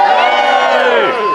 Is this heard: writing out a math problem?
no